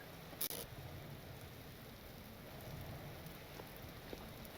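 Rain falling in the video game Vintage Story, a soft, steady hiss of rainfall with scattered droplet patter, faint and continuous, plus one brief sharp click near the start.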